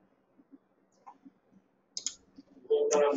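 A computer mouse double-clicks twice in quick succession amid quiet room noise, followed by a louder burst of sound at the end; faint voices may be present.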